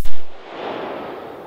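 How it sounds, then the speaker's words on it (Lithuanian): A single loud ceremonial rifle volley fired by soldiers of the 506th infantry company as a salute, one sharp blast followed by a rolling echo that fades slowly in an open outdoor setting. "506 pėstininkų kuopos kariai atliks pagarbos salvę už Lietuvą, už kritusius laisvės kovose ir už Lietuvos žmonės"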